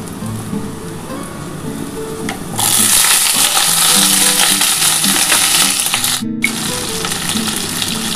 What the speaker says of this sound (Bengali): বন্ধুরা দেখো, আমার কিন্তু আলু পটলটা আমি একসাথে ভাজছি।